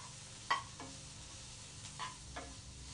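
Turmeric and garam masala being stirred into a watermelon rind sabji in a pan: a few faint, scattered spoon scrapes and clicks over a low, quiet sizzle.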